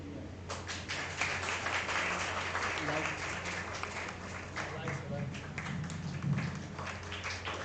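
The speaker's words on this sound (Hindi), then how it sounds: "तालियां बजती रहनी चाहिए भाई।" An audience at a workplace lecture on stress and mental health applauds steadily with a dense patter of clapping that runs throughout, moderately loud in a hall, with voices murmuring underneath.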